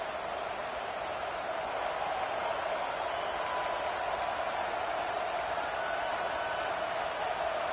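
A college football stadium crowd of about 75,000 at a Michigan versus Michigan State game roars on third down, a loud, unbroken wall of cheering with no distinct voices.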